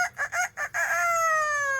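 A parrot imitates a rooster's crow: three short choppy syllables followed by a long, drawn-out tonal note, loud and close with no talking.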